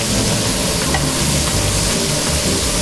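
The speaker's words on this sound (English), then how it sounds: "We're going to saute these on this side of the grill since they're vegetables." Green beans sautéing in butter on a steakhouse grill give a loud, dense, continuous sizzle and crackle close by, steady and without voices.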